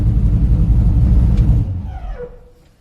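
A 1972 Buick Skylark, a junkyard rescue, gives off a loud low mechanical rumble from its transmission, steady at first, then easing down and fading away near the end.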